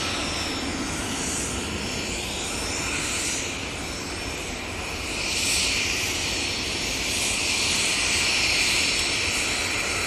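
A small business jet departs Manchester Airport bound for Amsterdam, a sustained jet-engine roar heard from a distance that swells and fades slightly over ten seconds, with no voices.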